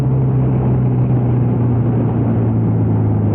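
A Benelli 302R two-cylinder motorcycle engine idles close by, a deep, steady, throbbing drone with a strong low hum and no change in pace or pitch throughout.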